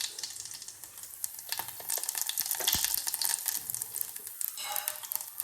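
Mustard seeds and cumin crackle and sizzle in hot oil in a home kitchen pan, a dense continuous frying hiss with quick popping ticks throughout, close and steady with no voices.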